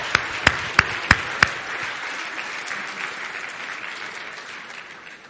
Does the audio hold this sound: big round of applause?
yes